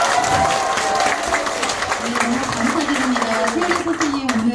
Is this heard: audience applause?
yes